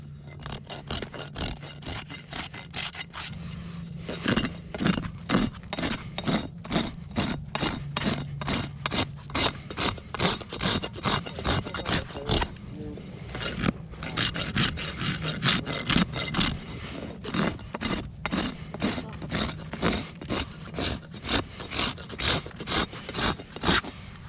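Long, chronically laminitic hooves of a rescue horse being trimmed and rasped, giving steady repeated rasp strokes in a fast rhythm, close and fairly loud, with a brief pause midway and no talk.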